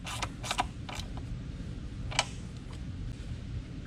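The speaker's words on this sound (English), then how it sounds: "we're going to go ahead and tighten that stud up" Stud on a 3.6L engine in a 2016-2026 Dodge Durango or Jeep Grand Cherokee being tightened during an oil separator install, giving a few short ratchet-like creaks and clicks close by over a low steady hum.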